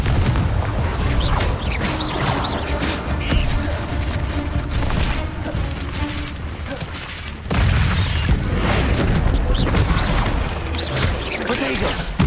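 Confringo fire spell blasts in Hogwarts Legacy, a dense run of booming explosive bursts amid continuous loud combat noise, with a player talking over it.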